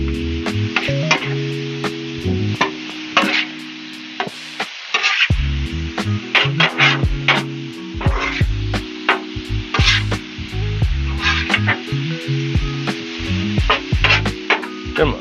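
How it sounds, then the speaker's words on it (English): Onions caramelizing in a pan for a stir fry, sizzling and frying steadily up close, with sharp intermittent clicks and scraping from stirring. "Them onions are getting nicely good and caramelized. It's gonna go good with the rest of the stir fry."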